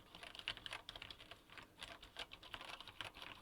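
Rapid, uneven typing on a computer keyboard fitted with POM keycaps, a steady patter of close, soft clacks with no talking over it.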